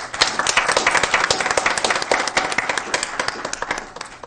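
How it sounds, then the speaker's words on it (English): A round of applause at a school board meeting, individual claps standing out crisply in a small room, moderately loud and steady throughout. "Let's give him a round of applause"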